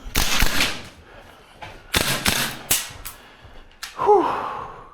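A VFC URGI V3 gas blowback airsoft rifle fires several sharp, close cracks in irregular single shots, each with a brief mechanical clack, separated by short pauses.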